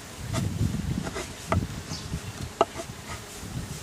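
Honeybees buzz around an open beehive during an inspection while comb is scraped, a close, wavering hum with a few brief scraping clicks on top.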